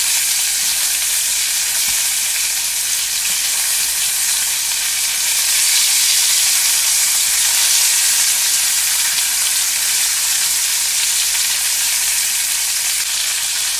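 Pollock fillets frying in a pan, a steady, dense sizzle and crackle of hot oil that runs continuously and close up throughout, with no voices.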